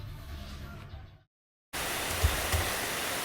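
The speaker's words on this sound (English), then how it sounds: "It's raining again." Steady broadband hiss of afternoon rain falling in Cambodia, interrupted by a brief silence before resuming louder, with a couple of soft thumps.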